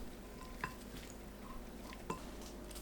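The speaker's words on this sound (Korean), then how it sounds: "남은 양념에 물 100ml 넣고 섞어주세요." Leftover bulgogi marinade is mixed with water in a bowl, a faint, close stirring swish with two light clinks of a utensil against the dish, no talk.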